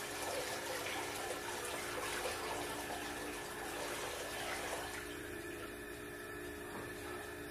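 Wort poured back from a colander over the grain bed while batch sparging a pale ale: a steady, close splashing and trickling pour that softens slightly after about five seconds.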